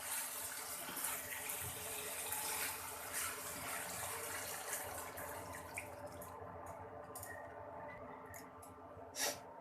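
Water runs and splashes into a pan of fried cauliflower in a steady, faint stream, with a few drips and small splashes toward the end.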